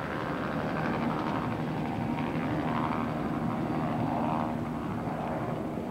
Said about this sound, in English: our helicopter could not stay. It had to fly out to a safe distance.